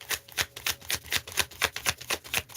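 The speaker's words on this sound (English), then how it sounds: "Spirit wants me to shuffle this way for you." Tarot cards shuffled by hand in quick, regular bursts, about a dozen crisp riffles and slaps in a steady rhythm, close and fairly quiet with no talking.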